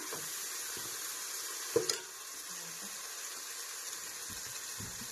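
Onions frying in a pan for chicken and egg biryani, a steady faint sizzle with a couple of brief stirring clanks near two seconds.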